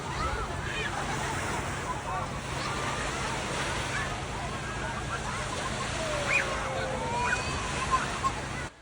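Sea waves wash onto a beach in a soft, continuous surf and wind hiss, with faint voices and a few brief chirpy sounds on top.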